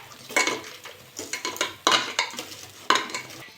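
Chili and shrimp worked by hand into mashed pointed gourd bhorta, giving repeated soft, wet squishing and stirring bursts in an uneven rhythm, close up with no talking.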